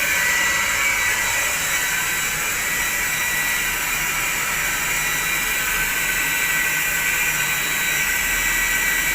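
A Mitsushi electric water pump runs continuously while filling a tank, giving a steady, even whine and hiss with no breaks or voices.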